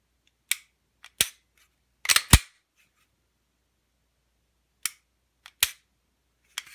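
A Sig Sauer P320 fitted with a dual-adjustable aftermarket trigger is dry-fired and reset, giving sharp, isolated mechanical clicks, some in quick pairs, close up against silence.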